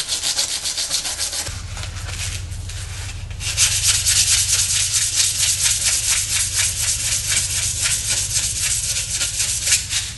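A steel trigger sear from an XDm pistol rubbed back and forth on wet sandpaper, a close, continuous gritty rasping with a quick steady stroke rhythm that grows louder partway through, with no talking.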